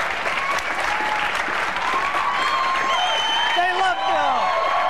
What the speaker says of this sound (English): please give a warm round of applause for Bill Nye